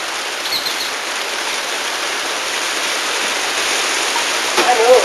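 Steady, close rain hisses as a continuous broadband wash, with a faint bird chirp and a brief voice near the end.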